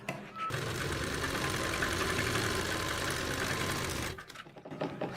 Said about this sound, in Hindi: तो हमने इसी के ऊपर सीधी साइड से एक पैर की सिलाई लगा देनी है।